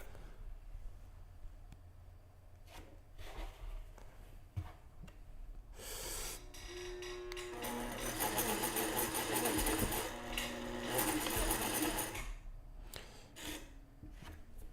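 A sewing machine stitches fabric, its quiet rubbing and handling noises giving way to a steady, whirring run of close needle strokes lasting several seconds, then slowing and stopping, with no talk.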